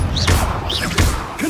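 Revelio spell cast in the Hogwarts Legacy video game: a few short thuds and whooshing sweeps repeat across a brief stretch, with faint high chiming tones, moderately loud.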